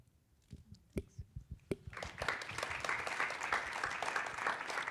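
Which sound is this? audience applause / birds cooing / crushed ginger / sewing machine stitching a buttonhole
audience applause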